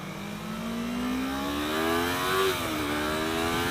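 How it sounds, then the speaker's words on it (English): A 2015 Yamaha R3 motorcycle pulls hard wide open in second gear on a high-speed run, its engine note climbing steadily and loud with a brief dip near the end, heard close from the rider's position over wind. "We'll do another higher speed run here as we finish out the ride."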